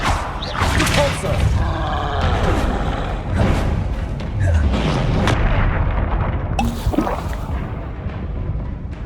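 Spellcasting combat in the Hogwarts Legacy video game, with loud booming blasts and thuds rolling out over continuous action noise, and a voice speaking through it.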